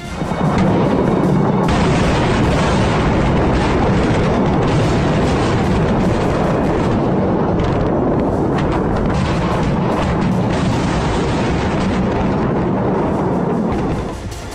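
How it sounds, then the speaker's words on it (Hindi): Continuous heavy rumbling and booming from repeated bomb explosions in an airstrike on Beirut, Lebanon, loud and dense, rolling together without pause throughout. "देखिए, धमाकों पर धमाके हो रहे हैं।"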